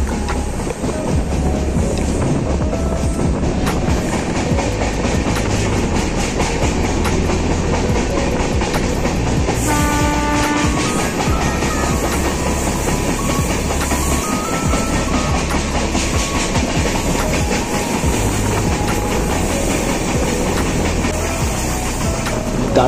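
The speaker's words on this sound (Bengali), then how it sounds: "হাওড়া থেকে ট্রেন ধরে নিলাম" A moving passenger train out of Howrah, bound toward Daringbari in Odisha, heard from on board: loud, continuous rumbling and rattling wheels on the track, with no talk.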